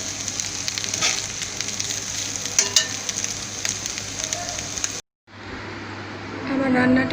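Green chili shrimp fry in a pan with a steady, close sizzle that cuts out briefly near the end, then resumes more evenly, with a faint clink or stir partway through.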